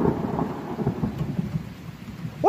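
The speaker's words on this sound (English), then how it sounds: "What did I tell you about thunder?" Thunder rolls through a heavy storm in a low, continuous rumble with steady rain, fairly close, before a sudden voice cuts in at the very end.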